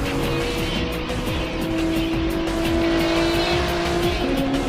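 An Alfa Romeo Giulia and a Lamborghini Aventador race close together, engines droning loud and steady with rising and falling revs and tire noise, filling the whole stretch without a break.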